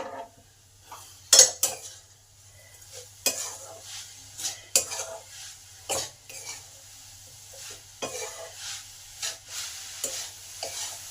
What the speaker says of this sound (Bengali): নারকেলটা কন্টিনিউ নেড়ে যেতে হবে।